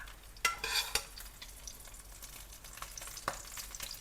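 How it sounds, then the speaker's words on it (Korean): Egg whites fry in hot oil with peperoncino while oil is spooned over them, a soft steady sizzle broken by a few sharper spoon taps and splashes, close and quiet. "페페론치노를 기름에 좀 달군 다음에 기름을 끼얹는 식으로 흰자를 익혔습니다."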